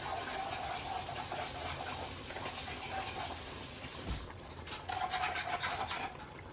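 Water poured into a cup to mix with flour for smothered pork chops, a steady close hissing pour that breaks off into softer splashing and trickling.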